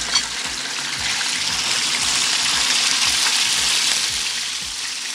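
Loud, steady sizzling of thin beef slices frying in hot oil, a dense hiss with occasional low knocks from the pan, no talking.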